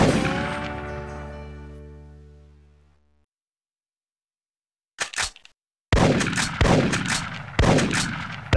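Gunfire from the hunting arcade game Big Buck Hunter Pro Open Season, bison adventure: one loud shot with a long decaying ring, then silence, then a burst and three sharp reports in quick succession.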